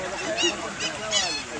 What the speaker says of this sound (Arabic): شوفوا الطيور هون صارت تتهاوشوا